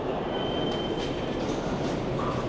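A Paris metro train rumbles through station tunnels in a steady, loud, continuous roar with faint wheel squeal and clatter over the top, close and unbroken throughout.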